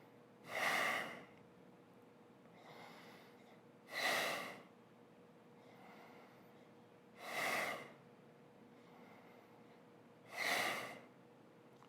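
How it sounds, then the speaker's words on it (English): Slow, deep breaths during a core workout, four strong airy exhalations spaced about three seconds apart, with softer inhalations between them, close and clear against quiet room hiss. "Smooth breath."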